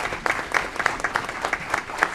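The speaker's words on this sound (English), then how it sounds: "Let's give them a big round of applause for making Aurora the best run city in our country." Audience applause for a city finance department at an Aurora city council meeting: a room of hands clapping steadily with sharp individual claps standing out, fairly close and moderately loud, with no talking.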